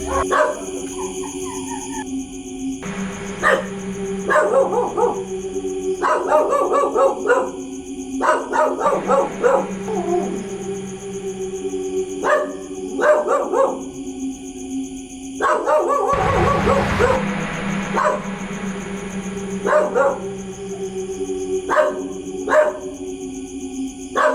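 Several dogs bark, yip and whimper in repeated bursts outdoors at night, caught on a home security camera, with a steady electronic hum underneath throughout.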